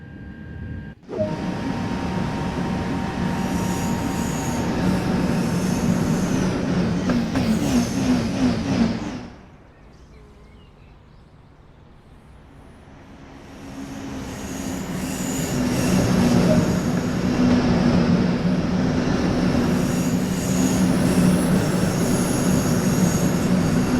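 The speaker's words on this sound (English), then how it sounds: "Let's take a look now while the train is in motion." A German LGV high-speed train in the video game Train Sim World 2 rolls along with a loud, steady rumble and squealing wheels; the noise drops briefly, then swells back to full strength.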